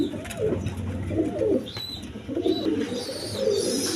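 American Lahore pigeons, a pair, give low throaty coos in repeated rounding phrases, close by and fairly steady, with faint higher chirps from other birds in the background.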